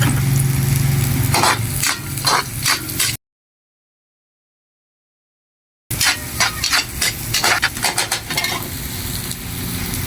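Garlic and onion sizzle and hiss in a hot pan while a utensil stirs and scrapes, with the frying steady and close; a silent gap interrupts the middle before the sizzling and stirring resume.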